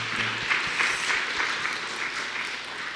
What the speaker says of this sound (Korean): 우리가 열심히 기도하겠다고 박수로 격려하시겠습니다.